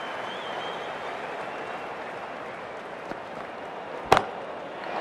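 A bat strikes the ball for a six in the Cricket 24 video game, one sharp crack near the end over a steady crowd murmur, followed by a brief rise in the crowd noise.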